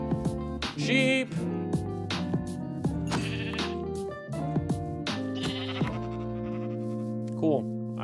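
Sheep in the video game Minecraft bleat repeatedly in short wavering cries, close and fairly loud, with someone talking over and between them.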